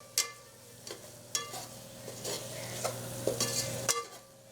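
Ground cumin, pepper, fennel and poppy seed paste sautéing in a pan for goat intestine curry, with a steady sizzle broken by several sharp scraping stirs of a spatula, close and fairly quiet.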